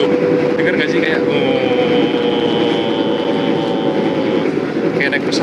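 Inside a long-distance passenger train running from Jakarta to Banyuwangi, a loud, continuous, close rumbling roar fills the carriage, steady like an airplane cabin, with faint higher tones riding on top.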